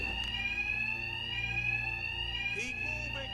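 Alarm bells ring continuously in Batman: Arkham Knight, a steady high-pitched electronic tone held loud throughout with a low rumble underneath and brief game voices in the background.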